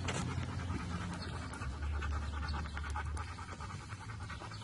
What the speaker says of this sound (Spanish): Todavía no podemos controlar esa respiración.